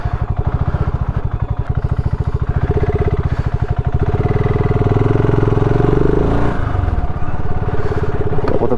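A BSA Goldstar 650 motorcycle thumps along close by with a steady, rapid engine pulse that builds and revs higher midway, then drops in pitch as the rider eases off, with no talking over it.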